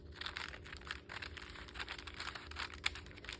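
Scissors or a blade cutting open a crinkly package containing an ephemera grab bag, producing close, continuous rustling and snipping crinkles with a sharp click near the end, no voices.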